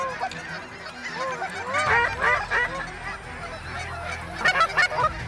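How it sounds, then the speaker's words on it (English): Geese honk repeatedly in a noisy chorus, with duck calls mixed in as a flock approaches close by; a burst of louder honking comes near the end. "The ducks and geese coming in at the same time."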